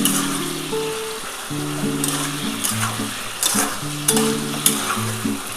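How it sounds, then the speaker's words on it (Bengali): Spice paste for a Bengali vegetarian bean, potato and bori curry sizzles in a pan while a spatula scrapes and stirs it, crackling bursts and clinks recurring over a steady fry, with a faint tonal hum underneath. "দেখো আমার কিন্তু দেখো মশলাটা মোটামুটি কষানো হয়ে গেছে।"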